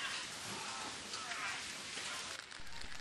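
Steady rain pours down during a thunderstorm at an outdoor athletics meet, a dense even hiss of drops on surfaces close by with no break, and no clear thunder standing out.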